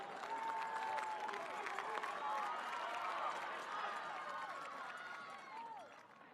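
A home crowd of Phantoms fans roars steadily through a gym at a WIAA Division 2 state basketball final, with a sustained wash of cheering and clapping under a commentator's voice.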